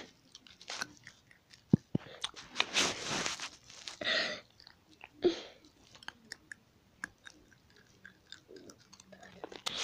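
Someone chews a small, tough piece of gumbo close up, producing irregular wet smacks, clicks and crunchy bursts over several seconds with no talking.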